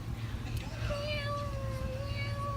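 A recorded cat's meow plays back in a classroom, a drawn-out tonal cry over a low background hum, with voices talking around it.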